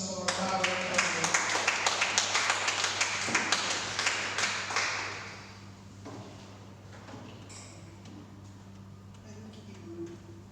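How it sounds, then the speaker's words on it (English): At a poetry and storytelling festival, a round of applause for the president rises as a burst of close, sharp claps for about five seconds, then fades into a low hum and faint room noise. "give a round of applause for our president."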